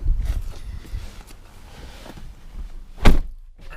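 BMW i3 Rex in Protonic Blue, opened with the comfort access handle: a soft rustle, then one sharp close thunk of the car door near the end, with no talk.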